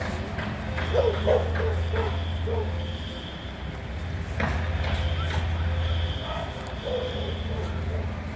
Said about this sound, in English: dudes have big dogs.